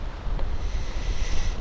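Gusty wind buffets the microphone on an open beach, a steady low rumble with swelling gusts and no voices.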